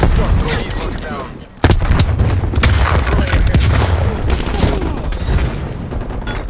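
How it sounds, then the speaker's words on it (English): Grenade blast in Call of Duty: Cold War Domination match: a sudden loud boom cuts in mid-clip over continuous rumbling gunfire and battle noise, with voices talking throughout. "Throwing grenade."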